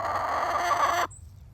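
Domestic chickens clucking in a dense, continuous layer of overlapping calls and squawks for about a second, then cutting off abruptly into near silence.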